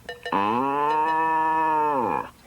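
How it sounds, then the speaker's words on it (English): An old cow moos once, a loud, drawn-out lowing call lasting about two seconds, clear and close with nothing else around it. "an old cow named Milky White"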